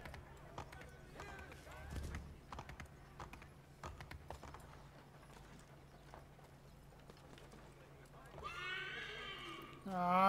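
A horse in the video game Assassin's Creed III: rhythmic hoof clip-clops on the ground, with a loud whinny near the end, under someone talking over the gameplay.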